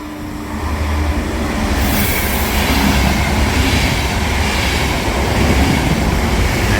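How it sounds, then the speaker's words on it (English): A train on Vienna public transport rushes past without stopping, a loud, steady roar of wheels and rail noise sustained close by for the whole stretch. "Here comes this train."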